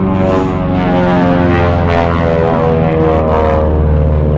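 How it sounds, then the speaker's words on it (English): A propeller aircraft drones loudly and steadily overhead at an air show, a continuous engine hum with no talking. "It's an air show behind me."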